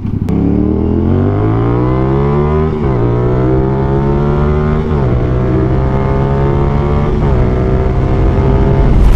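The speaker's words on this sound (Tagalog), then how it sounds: "Sobrang aggressive, lalo yung engine sound niya na 270 degrees crank." A 2024 CF Moto 450SR-S sport bike with a 270-degree crank parallel twin and SC Project CR-T exhaust revs loudly and close, climbing through several gear-like rises with brief dips between, with no talk.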